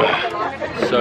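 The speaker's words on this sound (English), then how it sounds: "There's quite a few busy tables around us." Busy restaurant dining room with a steady babble of chatter from crowded tables nearby, while a voice speaks briefly over the hubbub.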